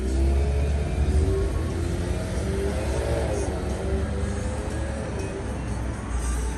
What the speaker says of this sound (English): Got a nice looking Cadillac leaving.